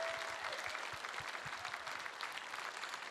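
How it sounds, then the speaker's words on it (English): A charity gala audience claps in steady, dense applause, moderately distant and even throughout, with no clear speech over it. "How about a big round of applause for our two"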